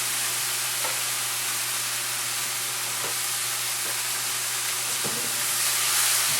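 Spinach frying in olive oil in a pan gives a steady broadband sizzle and hiss, with a few soft clicks and stirring sounds and no voices.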